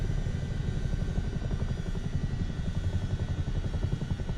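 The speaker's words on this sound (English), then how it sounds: "Imagine these people below just having this massive Chinook just hovering over the flats." A massive Chinook helicopter hovers over flats in Microsoft Flight Simulator 2024, its rotors producing a steady, rapid, throbbing chop with a low rumble, continuous and close.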